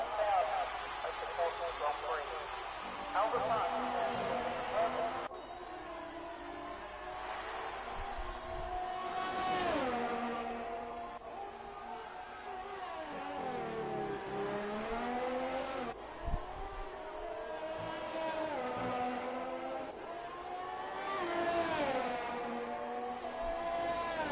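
A race car engine howls through a qualifying hot lap at the Australian Grand Prix in an F1 game on PS4, rising and dropping with each shift and corner while a commentator talks over it throughout.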